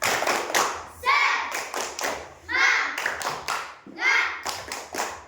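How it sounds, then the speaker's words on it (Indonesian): A classroom of children claps a rhythmic tepuk semangat chant, with bursts of patterned hand claps alternating with shouted group chanting in several repeated phrases. "Coba tepuk semangat."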